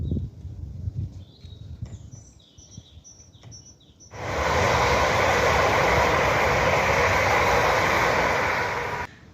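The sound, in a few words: train passing on the main line near a London park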